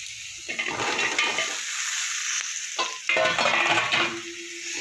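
Kohlrabi fries in a pan with salt and turmeric, giving uneven bursts of hissing sizzle mixed with stirring and clattering against the pan. The bursts swell and drop away over a few seconds, with no voices.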